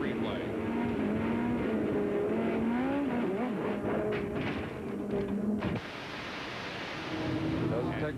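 Onboard camera on a midget race car crashing and flipping at Eldora Speedway, a loud continuous engine roar with harsh broadband noise and a sudden jolt near the end, overlaid with commentary.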